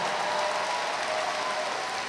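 Sustained applause from an audience at the Sheridan High School 2023 graduation ceremony, a steady dense wash of clapping at even volume throughout, with no voices.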